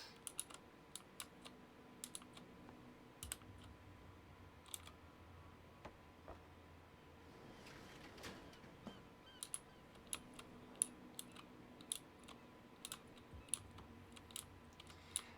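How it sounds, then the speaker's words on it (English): Steady close typing on a mechanical keyboard with brown switches, fast irregular clicks and taps running throughout, moderately quiet with no talking. "They're a bit clicky, but they're really comfortable keyboard."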